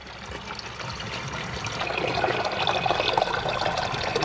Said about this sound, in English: Drinkable water just comes out of the mountains in Germany.